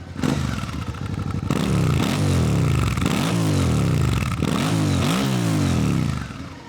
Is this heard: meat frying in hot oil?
no